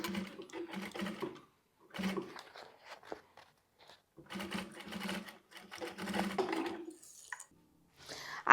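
A sewing machine runs in short bursts while stitching quilted synthetic fabric for a handbag, quick rattling runs of stitches separated by pauses, close and fairly quiet.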